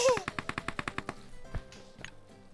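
Rapid automatic gunfire in the video game PUBG Mobile: a burst of about a dozen sharp, evenly spaced shots, followed by a few scattered single reports, fairly faint overall.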